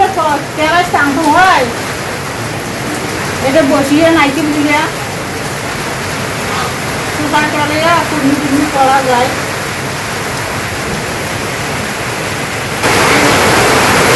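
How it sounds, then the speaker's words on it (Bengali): A sudden rain shower in a village gives a loud, steady wash of rainfall that swells and fades. A person talks over much of it. "তো হঠাৎ করে বৃষ্টি নামছে"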